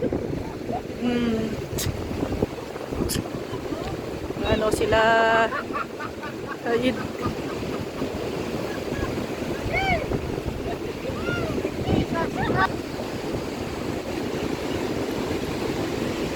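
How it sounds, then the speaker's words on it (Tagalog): A strong wind blows at the seaside during a storm, a constant rushing roar that buffets the microphone, with waves beneath it and people talking intermittently over the gusts. "grabe lakas nga lang ng hangin. Lakas ng hangin at may bagyo pati ngayon."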